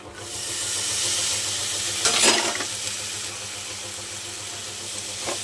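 Spring onion greens hit a hot pan and are stirred, giving a steady, close sizzle throughout with a brief louder scrape and hiss of stirring partway through and no voices.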